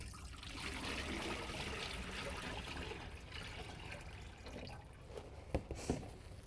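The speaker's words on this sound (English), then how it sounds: "Dispose of the water basin inside the sink." Water from a basin pours and trickles into a sink as a steady, close splashing flow for most of the clip, tapering off with a few brief clunks near the end.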